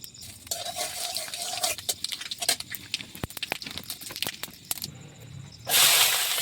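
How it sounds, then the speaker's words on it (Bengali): Panch phoron whole spices crackle and hiss in hot oil, a busy patter of small pops that swells into a loud, steady sizzle near the end. "তারপরে এখানে ফোড়ন দেওয়ার লেগা পাঁচ ফোড়ন দিব"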